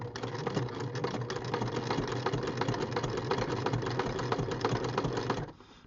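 A sewing machine stitches through leather in a fast, steady mechanical rattle, close and continuous for several seconds before stopping abruptly at the end.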